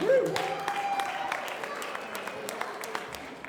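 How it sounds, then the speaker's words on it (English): An audience at a boxing hall of fame event applauds after a speech, clapping steady and moderately loud, with cheers and voices mixed in throughout. "Big round of applause"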